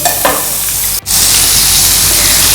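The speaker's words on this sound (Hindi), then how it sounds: "अब मैं इसे तवे की एक साइड पे कर दूंगी और बाकी जो कबाब है मैं फ्राई कर लूँ" Mutton chapli kebabs frying in oil on a tawa, a loud, continuous close sizzle with a brief dip about a second in, no voices.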